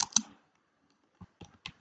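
A few soft, sparse keyboard clicks while a text box is typed into in Canva on a computer, two close taps at the start and then three or four light keystrokes after a short pause.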